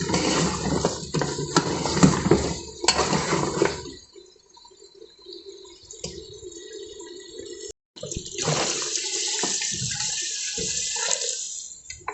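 Water pours steadily into a pot of beef trotters with coriander and cumin, stops briefly with a faint trickle, then pours again in a strong, splashing stream close by.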